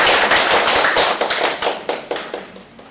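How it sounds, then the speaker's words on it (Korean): An audience at a clan association's annual general meeting claps loudly at first, then the applause thins into a handful of separate, distinct claps before fading out. "박수 한번 쳐주시기 바랍니다."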